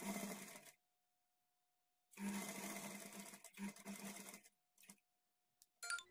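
A sewing machine stitches a blouse in loud, close bursts: one long run, a pause, then several shorter runs separated by brief stops.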